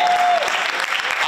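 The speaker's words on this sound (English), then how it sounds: "Marcus, let's clap for Marcus." Audience applause fills a performance space, a dense, steady clapping from a crowd that carries on loudly through the whole moment.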